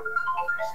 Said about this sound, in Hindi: अरे फोन,